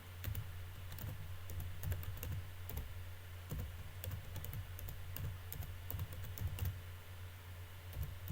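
Keys clatter on a computer keyboard in quick, irregular bursts of close, crisp clicks over a low steady hum, with no voices.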